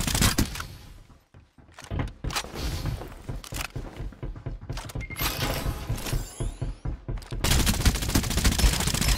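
Rapid gunfire in the Farlight 84 battle-royale video game, with bursts of automatic shots and scattered single reports over a busy, continuous game soundscape, loud and close throughout.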